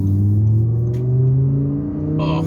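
Audi R8 engine revving on a suburban road, a loud sustained roar with rising pitch heard from inside the car, steady and close throughout.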